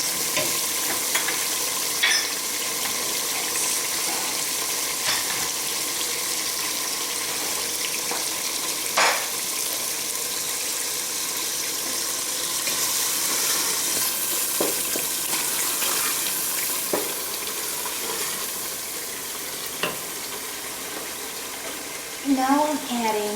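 Beef biryani mixture with mace, cloves and black pepper frying in a pot, a steady close sizzle with occasional scraping stirs and light clinks running continuously, faint talk near the end.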